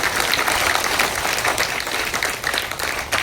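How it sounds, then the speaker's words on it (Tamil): An audience applauds at a Tamil film audio launch event, a dense burst of steady clapping from a crowd that is loud and continuous for a few seconds with no voices over it. "தம்பிக்காக எல்லாரும் ஒரு ஜோராக கைத்தட்டி இருக்கோம்."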